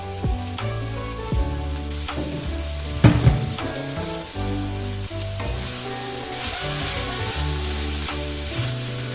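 Sliced okra fries in a pan for Kannada-style bendekayi palya, a continuous sizzle with a brief clatter of stirring, over steady tonal background music.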